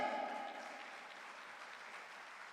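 An audience at a literary gathering applauds to welcome a writer to the stage, a soft, fairly distant wash of clapping that fades gradually under a faint tonal hum.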